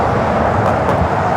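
A China Eastern Boeing 777 at Los Angeles LAX airport, a steady, loud jet roar that holds level through the whole stretch with no talking.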